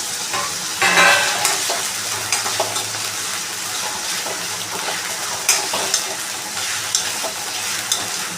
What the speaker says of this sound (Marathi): तर आता इथे ना बटाटे मी तेलामध्ये टाकले फ्राय होण्यासाठी